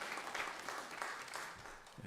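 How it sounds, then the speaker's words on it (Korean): Steady congregation applause at a Sunday church service, with dense, even clapping throughout, fairly loud and continuous for the whole stretch. "박수로 환영합니다"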